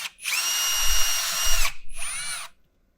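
A power drill drives screws into a carbon air filter build for a 3D printer, two steady high-pitched whirring runs, the first longer, loud and close, ending abruptly.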